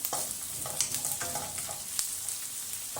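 Dried fish is stirred into a hot pan of string beans, giving a steady close sizzle and crackle of frying with intermittent scraping and stirring sounds.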